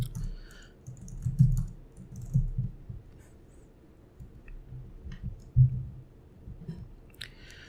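Soft, scattered mouse clicks at a computer while adding a database user, faint and irregular over a low room hum with no talking.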